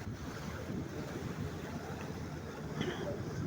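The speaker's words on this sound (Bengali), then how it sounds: "এখানে প্রচণ্ড পানির বেগ প্রপেলারে বাড়ি খাচ্ছে পানি" Water churns hard against a trawler boat's propeller, a steady low rushing rumble with wind buffeting across it throughout, close and without speech.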